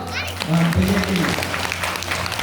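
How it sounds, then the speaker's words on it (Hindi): An audience claps in scattered applause at a spiritual discourse, a patter of hands running under a man's continuing speech. "जरा ताली बजाओ लोग"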